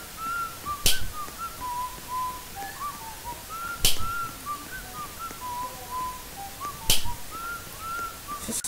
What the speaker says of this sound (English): Stop with the whistling, please